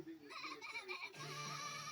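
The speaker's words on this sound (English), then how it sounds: "This is a goat." A goat bleats in a cartoon setting, a few wavering cries close and fairly loud, followed by a steadier sustained tone.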